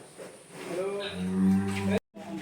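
A Brahman calf lets out one long, loud, low moo lasting about two seconds. The call breaks off abruptly, and a brief fainter sound follows.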